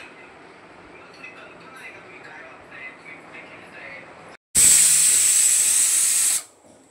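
Peanuts in their shells boil in a pot, and a loud, steady steam hiss starts abruptly after a quiet stretch of low background noise, holds for about two seconds, then cuts off.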